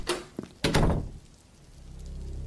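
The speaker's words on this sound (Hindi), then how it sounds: "उसने बंगले के दरवाजे को अंदर से अच्छी तरह लॉक कर दिया" A bungalow door shut and locked from inside: a couple of close thuds and a heavier bang, then a low rumble like rain outside.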